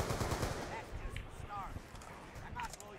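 Rapid gunfire from the M1216 shotgun in Black Ops 2 Zombies on the Buried map, dense bursts of shots over a busy game mix with a voice talking faintly underneath throughout.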